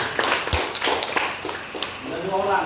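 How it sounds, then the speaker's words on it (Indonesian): Classroom applause for a schoolgirl named Putri: a short burst of scattered claps from a group of pupils, fairly close and lively, mixed with children's voices and talk. "Tepuk tangan untuk Putri."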